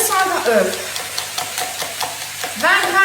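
A spoon beats a mixture in a bowl with quick, regular strokes, a soft rhythmic swishing under a speaking voice at the start and end.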